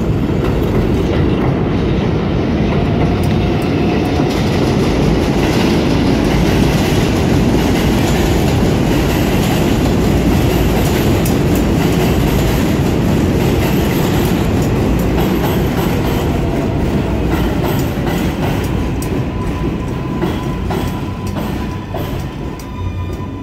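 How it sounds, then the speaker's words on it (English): A Woodlawn-bound New York subway 4 train passes at Burnside Avenue, a loud, steady rumble with rhythmic wheel clatter and faint squeals holding for the whole stretch, no voices. "Woodlawn-bound 4 train"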